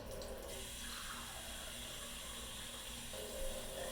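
Tap water pours steadily from a kitchen faucet into a measuring cup while making pancake batter, a broad continuous splash with a brief rise in level near the end, no talking.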